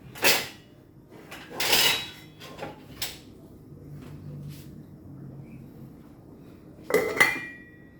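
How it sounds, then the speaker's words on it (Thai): Clattering of metal cookware, a lid clanking onto a pot of bone soup with pickled mustard greens among a few scattered kitchen clinks and knocks. "เอาฝาปิดให้เดือด"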